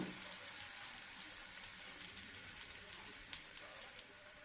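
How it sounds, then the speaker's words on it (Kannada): Aloo paratha sizzles on a hot tawa in steady, faint frying with small crackling pops scattered throughout, heard alone without voices. "ಹಂಚು ಕಾಯ್ದಿದೆ. ಇವಾಗ ಪರೋಟ ಹಾಕ್ತಾ ಇದ್ದೀನಿ."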